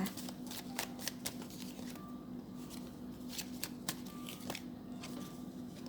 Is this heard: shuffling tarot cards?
yes